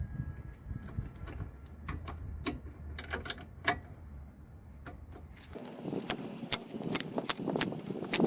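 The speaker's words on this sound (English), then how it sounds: "we're going to swap to a 16mm spanner and a 5mm Allen key to hold it so it doesn't spin" 16mm spanner and 5mm Allen key working loose a drop link on a Fiat 500, a run of sharp metallic clicks and ratchet-like ticks, close up and irregular, with no talk.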